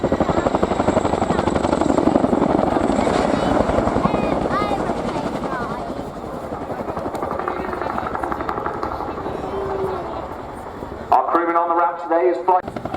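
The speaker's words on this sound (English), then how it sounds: "voice marshalling directions to Captain Cal, eventually talking him forwards and down onto the landing site and monitoring the height of the aircraft as she comes into land" A military transport helicopter landing at a field landing site, its heavy rotor thump and turbine whine loud and close throughout, easing slightly as it settles, with a voice speaking over it.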